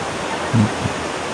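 Cold, clear stream water runs steadily in a mountain creek in New Bataan, Davao de Oro, making a constant broadband rush with a brief louder splash partway through.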